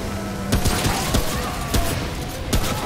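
Rifle fire in the video game Remnant: From the Ashes: about five sharp, spaced gunshots cracking over a steady hum of game ambience.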